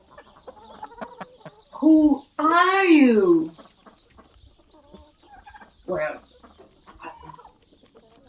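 A voice imitates a farmyard chicken, with a short squawk followed by a long, wavering, rising-and-falling cluck and a brief later cry, all mixed in with a storyteller's speech.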